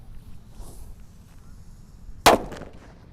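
A single sharp bang from a jumbo Gorilla firecracker cracks out after a stretch of quiet outdoor background noise, then fades quickly.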